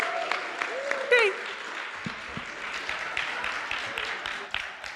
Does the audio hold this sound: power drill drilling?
no